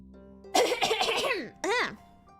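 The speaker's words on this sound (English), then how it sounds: "that was me coughing" Someone coughs in a harsh burst and then gives a second, shorter cough close to the mic, with quiet room tone around the sounds.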